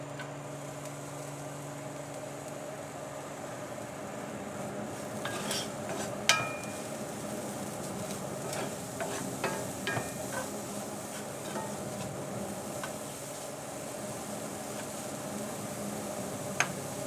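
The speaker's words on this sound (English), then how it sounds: "Now whenever your cabbage gets a little fried, then I'm just adding on the shredded carrot." Cabbage and shredded carrot fry in a pan, a soft, continuous low sizzle with occasional faint clinks and scrapes of a stirring utensil, quiet and steady, with no talk.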